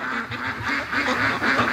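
Ducks quack in a brief, continuous burst of overlapping nasal calls, close and fairly loud, with no talking.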